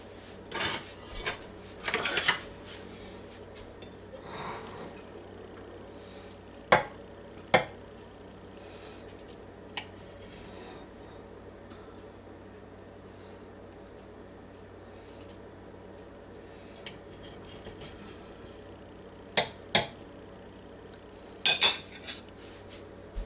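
A knife cuts a slice of pineapple cake on a plate, giving a few sharp clinks and scrapes of metal on china spread across a quiet stretch, with clusters near the start, middle and end.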